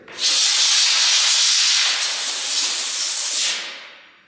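A loud, steady rush of blowing air clearing debris from base plates, a harsh hiss that starts abruptly, holds for about three seconds, then tapers off.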